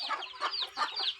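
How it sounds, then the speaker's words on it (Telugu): A large breed of farm hen clucks in a short run of rhythmic calls, close and fairly loud, with no talking. "పెద్ద రకం కోడి"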